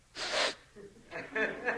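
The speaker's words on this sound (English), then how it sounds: "And stop the sniffling, too." A man sniffles and snorts while crying, in a few short breathy bursts close to the microphone, with a stretch of talk in between.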